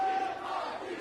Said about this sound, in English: Listen to the crowd chant Low-Ki.